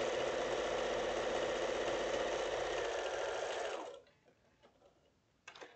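A sewing machine runs fast and steady stitching a quilt seam with a scant quarter-inch allowance, a close whirring hum for about four seconds before stopping, followed by faint clicks and handling sounds.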